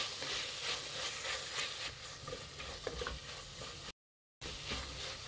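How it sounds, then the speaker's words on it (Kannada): Fresh green peas being stirred and fried in a pan for mushroom biryani give a continuous close sizzle with soft scraping strokes, broken once by a brief gap of silence. "ಹಸಿ ಬಟಾಣಿ ಹಾಕಿ ಮಿಕ್ಸ್ ಮಾಡಿ"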